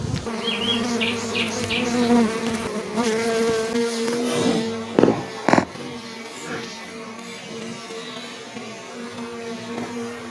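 Honeybees buzz at a hive, a close, dense droning hum with shifting pitches from individual bees passing near, plus a couple of brief knocks midway, no speech.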